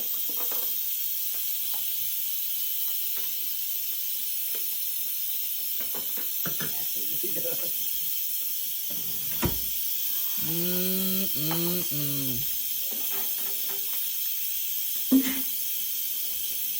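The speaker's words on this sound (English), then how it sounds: "Been cooking in the pressure cooker, cooking down." A pressure cooker cooking down apple butter gives off a steady, even steam hiss from start to finish, with a few brief whining, rising-and-falling tones and soft knocks over it midway.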